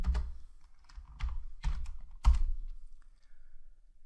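Several short bursts of computer keyboard typing, close and fairly loud, with brief pauses between groups of keystrokes and no talking.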